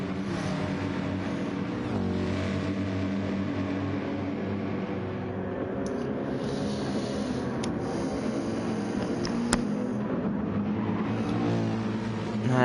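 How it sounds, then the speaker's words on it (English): Racing car engines drone in a racing video game endurance session at the Nürburgring, a steady mix of revving motors at moderate volume with faint higher tones, without speech. "Roxy still driving round with the hazard lights on that Lamborghini"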